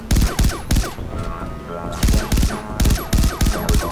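A laser gun fires in Far Cry 3: Blood Dragon, loud punchy shots in rapid clusters with a brief lull between bursts, over a game soundtrack.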